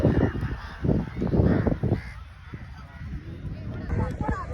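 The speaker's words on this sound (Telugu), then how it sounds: "కాకులు" Several crows caw in harsh bursts nearby at Marina Beach, overlapping with people talking in the background.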